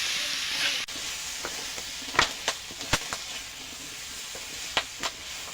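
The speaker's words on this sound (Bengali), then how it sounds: "একটু ভাজা ভাজা করে নেব।" Cut potatoes with slit green chillies, salt and turmeric fry in a pan for a bitter gourd and fish curry, giving a steady close sizzle broken by a few sharp stirring scrapes and spits.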